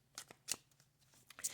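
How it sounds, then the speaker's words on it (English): Thelema Lenormand card deck shuffled by hand, a few quick soft riffling bursts of cards close up, brief papery flicks separated by short pauses. "I always shuffle before I read, but I want to do it again just so you can see"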